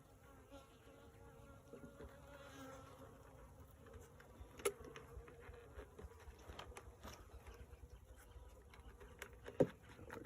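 Honey bees crawl and buzz over a honey frame pulled from a backyard hive, a soft continuous hum with a few sharper ticks and knocks, faint and close.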